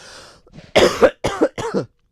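One person coughs several times in a row, close and loud: a short rough hack followed by a few separate bursts, with a quiet breathy lead-in.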